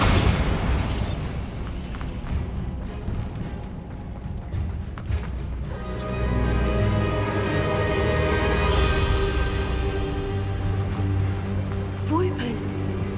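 Bombarda explosion spell in Hogwarts Legacy, deep booming blasts and crackling bursts over a rumbling game soundscape, with talking throughout.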